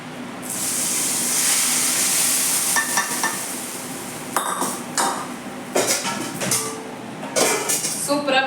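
Fried tempering is poured over fish curry with a sustained hot sizzle and spray at the start, followed by clinks and scrapes of a pan and utensils and some stirring.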